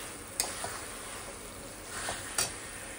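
Poppy seed paste fries in a pan under a soft, steady sizzle, with a few sharp taps and scrapes of a spoon stirring it, fairly quiet and with no talk.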